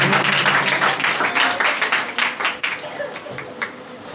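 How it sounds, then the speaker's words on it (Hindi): A church congregation claps and applauds in a burst that starts full and loud, then thins into scattered claps as it fades over a few seconds. "आप सब खुश हैं? जोरदार ताली बजाओ, जोरदार।"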